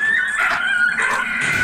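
A dog in the World War I game Valiant Hearts yips and whimpers in high, drawn-out cries, loud and close, with a game score playing underneath.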